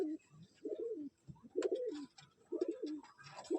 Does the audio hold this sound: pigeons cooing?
yes